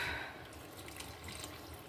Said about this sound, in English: I'm going to go get maybe another 2 cups of water